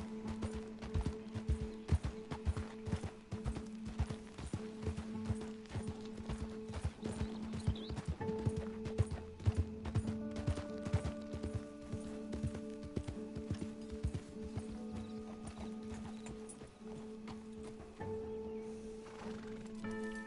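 Horse hooves galloping in Red Dead Redemption 2, a rapid close drumming of clip-clop beats that runs continuously and loud with game ambience beneath.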